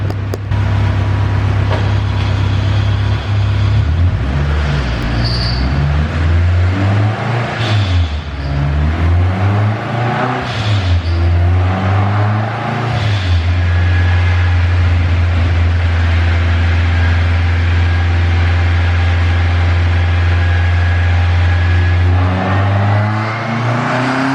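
A turbocharged K24-powered AWD Honda Civic revs hard on a dyno, its engine note surging and dipping through several pulls before climbing in a long sustained rise, loud and close with a deep steady drone beneath.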